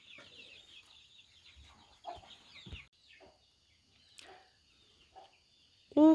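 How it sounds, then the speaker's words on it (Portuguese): Soft clucking from several chickens on a farm roost in the early evening, scattered short calls at moderate distance over a quiet background, ending with a brief louder squawk. "Tem um monte de galinha já no poleiro"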